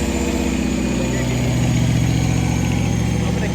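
Dodge Charger Scat Pack Widebody with the 392 engine running hard on a dyno, a loud, steady, throbbing engine roar with a strong low pulse that holds without letup, close up.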